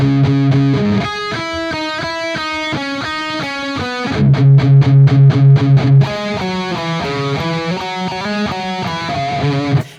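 A distorted electric guitar plays a metal riff in quarter-note triplets, loud and close, with chugging palm-muted chords and sustained power chords in a driving rhythm.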